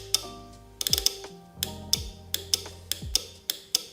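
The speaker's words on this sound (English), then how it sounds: "So if we test this up, it should get a click." An air ride compressor relay on a Harley Road King, bench-wired to a toggle switch and ground, clicks sharply about eight times in an irregular rhythm, close and fairly quiet, with no talking.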